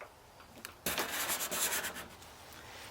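A steel card scraper, curved and pressed hard, scrapes along a wooden board in a quick burst of rasping strokes after a brief quiet start, close and fairly loud, then tapers to a softer hiss.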